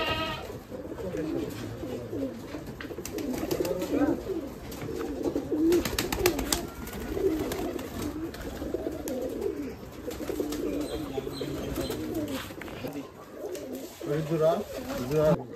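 Giribaj pigeons coo in a low continuous warble at a pigeon farm, with many birds murmuring together while people talk over them.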